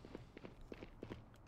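Footsteps in the shooter game Valorant pad along in a quick, even rhythm, about eight soft steps over roughly a second and a half, fairly faint against a low background hum.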